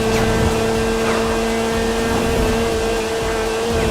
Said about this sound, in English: it's the engine noise or the exhaust note